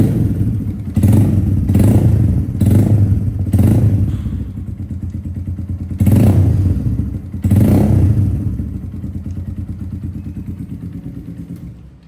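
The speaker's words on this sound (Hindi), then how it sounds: "इसके टिपिटो की आवाज़ ज़्यादा थी, एग्जॉस्ट से ज़्यादा इसकी आवाज़ आ रही है" A Suzuki GSX motorcycle engine revs in several short bursts, with loud clattering tappet ticking beneath the rumble, louder than the exhaust, close and loud, settling to idle between revs.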